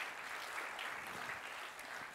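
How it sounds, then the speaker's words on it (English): Conference audience at an opening plenary clapping together, a sustained, dense round of applause filling the hall without any talking. "Let's give them a big clap."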